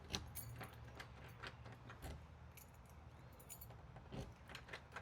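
A bunch of loose keys from a broken key ring jangles and clinks in repeated bursts as someone sorts through them for the right one. The sound is close but quiet, with no talking.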